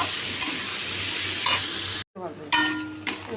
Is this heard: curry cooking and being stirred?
yes